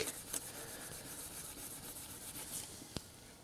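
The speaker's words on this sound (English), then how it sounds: "This is double aught steel wool. And I want to just show you how abrasive this is to that zinc." Double aught steel wool rubs back and forth on a piece of pure zinc, a faint, close, continuous scratchy hiss with one small tap near the end.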